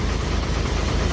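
Vehicle engines idling and rumbling steadily at low pitch as traffic reverses on a single-lane mountain road near Jomsom, Nepal, with a continuous close engine drone and no talk.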